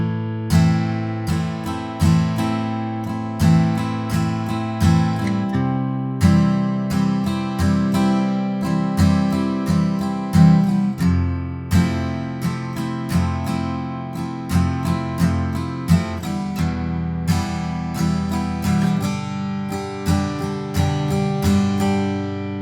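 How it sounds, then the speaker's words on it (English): Played without a capo, an acoustic guitar works through a chord progression with a steady, rhythmic strumming pattern, close and full, repeating for over twenty seconds with no talking. "And in total, the simple chord progression will sound like this."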